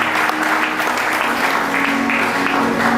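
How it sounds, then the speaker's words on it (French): A church congregation at a Sunday worship service applauds loudly and steadily, a dense wash of clapping that fills the space without pause, with a faint sustained tone beneath it. "On acclame très fort pour la parole de Dieu."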